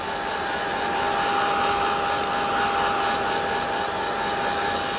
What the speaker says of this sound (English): I am going to go ahead and hit this with a little bit of heat just to get it to dry, the inks to dry